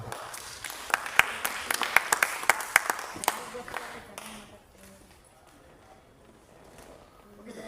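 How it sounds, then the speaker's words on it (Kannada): An audience applauding at a felicitation ceremony in Rajeshwari Nagar, Bengaluru, a burst of sharp claps that thins out and fades after a few seconds into room murmur. "ಎಲ್ಲರ ಪ್ರೀತಿಯ ಚಪ್ಪಾಳೆ."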